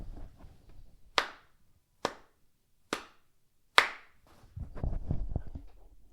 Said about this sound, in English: I'm gonna clap to make sure that the audio and the video are synced.